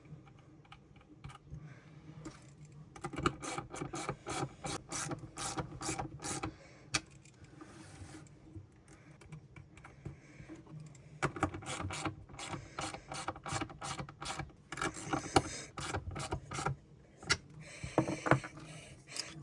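A ratchet tightens a bolt on a Harbor Freight U.S. General magnetic tool holder, giving long runs of rapid, close clicking that break off briefly and then start again, with no talk.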